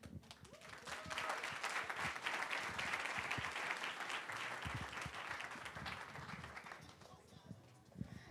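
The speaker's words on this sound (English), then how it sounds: "Keep that round of applause and energy going for Camille Hall" A crowd applauds loudly and steadily for several seconds, dense clapping filling the room, with voices and cheers mixed in before it tapers off.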